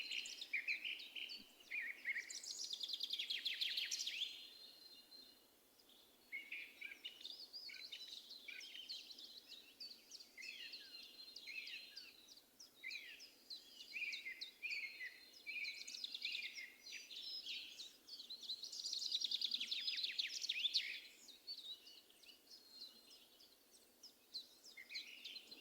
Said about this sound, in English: allowing the birdsong to begin to do its work